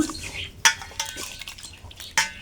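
A ripe palm fruit, its skin yellow on top and black below and dirty with soil, being washed by hand in water: soft splashing and sloshing with a few sharp knocks against a vessel, and faint talk nearby.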